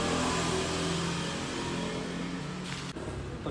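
Motorbike engine drones steadily while riding on the road toward Mount Tambora, a constant loud hum with wind rush and no speech.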